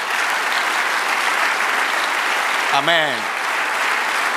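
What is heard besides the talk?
church congregation applauding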